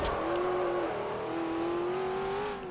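A supercar engine in the racing game Forza Horizon 2, a loud continuous drone holding a steady high revving pitch that rises slightly toward the end, with no talk over it.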